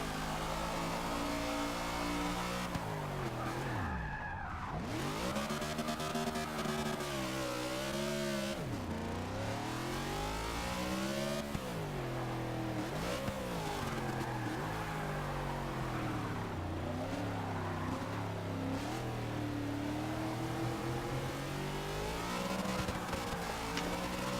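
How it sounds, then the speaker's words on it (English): Race car engines rev and roar continuously during a series skills challenge, with repeated pitch sweeps as cars accelerate, brake and pass close by, loud and without pause. "Cars blurring past him."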